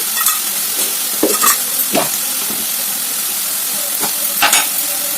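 A ginger-garlic spice paste with coconut is stirred in a hot frying pan, its loud continuous sizzle and hiss punctuated by repeated scraping and clacking strokes of the spoon.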